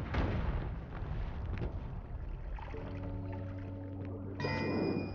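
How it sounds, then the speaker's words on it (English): Rumbling explosions in the video game Noita, a dense low crackling roar that fills the opening seconds and then settles into a steady background rumble with sustained tonal game sounds layered on top. "Explosions are huge."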